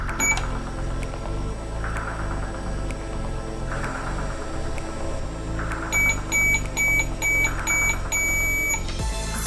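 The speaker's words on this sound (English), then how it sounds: "Sweet sound of the buzzer." A toy lip balm microwave hums steadily, and near the end an electronic buzzer sounds in a quick run of repeated high beeps, fairly loud and close.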